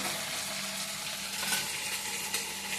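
Prawns fry in a pan with a steady, moderately loud sizzle and occasional sharper pops and spits, heard close with nobody talking.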